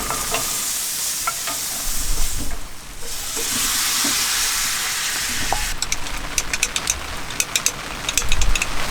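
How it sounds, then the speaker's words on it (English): Pork and pineapple sauce simmering in a pan at a campsite in wet weather, giving a steady broadband sizzle with stirring scrapes and small crackles, brightening with sharp pops toward the end. "I'm going to let that simmer a little bit so those flavors sort of marry together and the pork can finish cooking"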